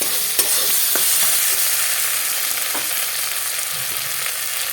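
Spice masala with turmeric powder fried and stirred in a pan for a mourola fish and brinjal curry, a loud, dense, close sizzle with a few faint stirring knocks, no talking.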